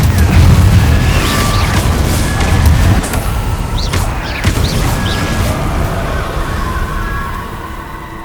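Confringo fire-spell blasts in the Hogwarts Legacy video game, heavy booming bursts with a dense low rumble rolling through most of the stretch, several sharper cracks layered on top and fading slightly toward the end.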